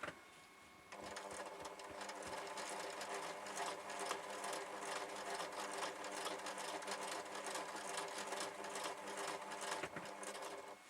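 A domestic sewing machine with a 7-inch throat stitches through a large quilt, running in a steady, continuous mechanical whir close by after a brief quieter start, with no talking.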